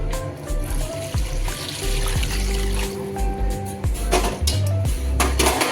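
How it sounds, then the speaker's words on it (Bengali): Hot water is poured into a pot of Gobindobhog rice pulao, a short trickling, splashing pour with pot clatter, set against a steady tonal background and no speech. "নাড়াচাড়া করে নিয়ে এবার এর মধ্যে দিয়ে দেবো আমি গরম করে রাখা জলটা"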